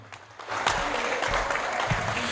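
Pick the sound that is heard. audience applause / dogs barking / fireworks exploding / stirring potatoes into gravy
audience applause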